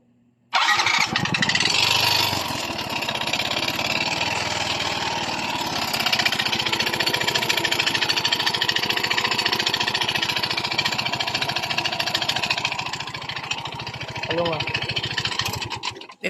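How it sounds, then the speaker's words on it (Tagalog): A Yamaha Mio i 125 scooter engine with head ticking and piston slap, before repair, starts up and runs loud and close with a rough, rapid clattering beat throughout. "parinig ko muna sa inyo ang before na tunog ng kanyang makina nang hindi pa natin siya naayos"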